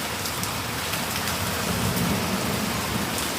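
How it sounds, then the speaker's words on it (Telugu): Hail falls with heavy rain in a dense, steady downpour, and scattered sharp ticks and faint distant rumbles come through the constant hiss. "చూడండి ఎన్ని పన్నాయో వడగండ్లు"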